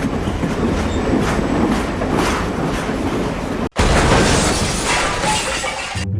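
A train rumbles steadily with a clickety-clack rhythm at close range, loud throughout with a brief dropout partway before the noise resumes.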